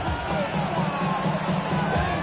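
A football stadium crowd roars steadily through a late fourth-quarter third down in a Panthers–Falcons game, a dense, continuous wall of cheering with no pauses.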